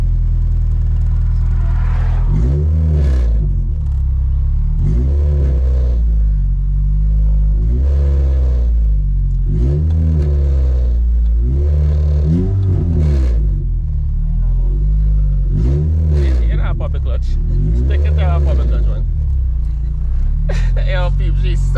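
A 2ZZ-GE Toyota Corolla race car engine revs repeatedly, about seven rising roars spaced a few seconds apart over a low idle rumble, loud and close, with people talking over it.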